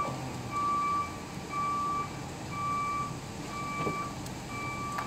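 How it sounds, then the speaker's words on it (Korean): A garbage truck reverses nearby, its backup alarm sounding a steady series of repeated beeps over a low engine rumble, with no talk. "청소차가 왔나? 청소차 소리인가?"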